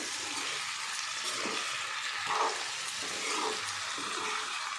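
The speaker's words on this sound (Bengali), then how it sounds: "মশলার সাথে তরকারিটা একটু ভাজা ভাজা করে নিচ্ছি বন্ধুরা।" Vegetables frying with spices in a pan over a raised gas flame, a steady close sizzle with faint stirring scrapes throughout.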